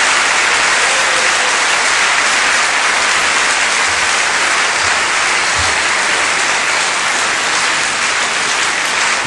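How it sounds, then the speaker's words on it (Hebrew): A large audience at the 1982 Israeli Eurovision national final breaks into loud, sustained applause after the song performances, a dense wash of clapping that holds steady throughout with no voices. "אלה מחיאות כפיים בשביל כל תריסר השירים"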